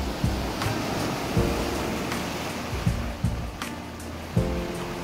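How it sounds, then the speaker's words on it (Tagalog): Sea waves wash onto Tarnate Beach in Cavite, a steady rushing surf with a few soft breaking thumps at irregular intervals, moderately loud and with no voices. "Ayan yung dagat. Maalon-alon ng konti."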